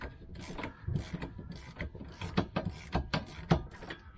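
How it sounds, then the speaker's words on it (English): Spanner ratcheting and clicking on a van shock absorber bolt during a Vauxhall Movano shock replacement, a close series of sharp metallic clicks in an uneven rhythm. "Let's get a spanner on there."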